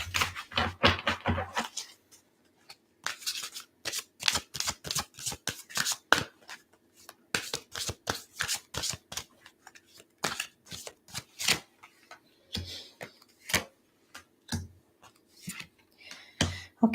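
Tarot cards shuffled by hand, close and crisp, riffling in irregular bursts of rapid flicks and snaps with short pauses between them, no talking.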